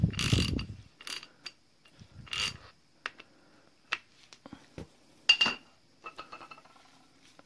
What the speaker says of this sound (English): use a 1/2-inch drive to take the cap off the housing